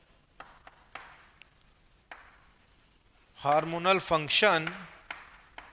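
Chalk or marker strokes on a board during a biology lecture, a few scattered short scratches and taps, followed by a lecturer speaking over them.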